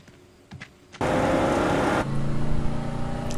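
A car engine roars into a loud sustained rev after a brief quiet start, then settles into a steady rumbling idle, heard in a TV drama scene.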